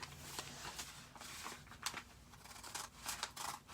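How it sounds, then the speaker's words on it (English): Scissors cutting the bottom off a brown paper bag, a run of crisp, irregular snips and paper crinkles close by, with no voice. "I'm actually just going to cut the bottom off and open it up."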